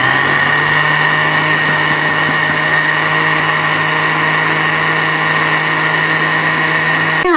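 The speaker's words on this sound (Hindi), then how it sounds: "थोड़ा और मिक्सी को चलाएंगे और फाइन पेस्ट होने तक इसे ग्राइंड" A loud mixer grinder grinds poppy seeds and almonds into a fine paste, running continuously with a high whining motor drone, steady and unbroken throughout.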